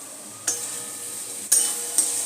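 Potatoes dropped into a hot pan for Bengali aloo dum biryani, giving a steady close sizzle with a few sharp clatters as they land and are stirred.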